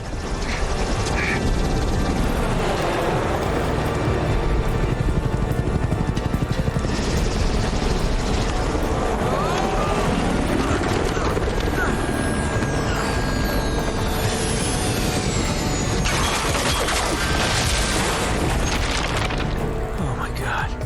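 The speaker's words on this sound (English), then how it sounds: "Navarro attempts to land the statue on a boat, but Elena fights from within and the helicopter crashes on the boat." A helicopter crashes onto a boat in the video game Uncharted: Drake's Fortune, a dense, continuous roar of rotor noise and booming impacts filling the scene, with voices mixed into the din.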